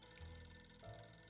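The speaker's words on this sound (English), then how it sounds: "A phone call." A telephone rings in the video game 60 Seconds, a short electronic trill that stays fairly quiet over a steady low hum, with no voices.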